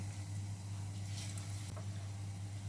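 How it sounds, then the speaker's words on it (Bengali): Steady, faint sizzle of vegetable chops frying in hot oil in a frying pan, a continuous crackling hiss with a low hum underneath and no voices. "এবারে ফ্রাইং প্যানে তেল গরম করে আমি একটা একটা করে এগুলোকে ভেজে নেব।"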